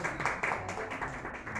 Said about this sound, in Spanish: Otro aplauso, por favor.